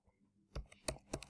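Keys tapped on a computer keyboard in a quiet room, a short burst of soft, close clicks in uneven rhythm after a brief silence.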